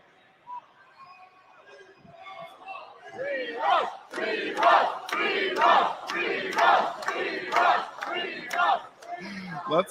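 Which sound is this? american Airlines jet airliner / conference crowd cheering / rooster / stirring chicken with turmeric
conference crowd cheering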